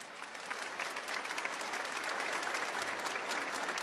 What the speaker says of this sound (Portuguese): Vamos saudá-los com a salva de palmas.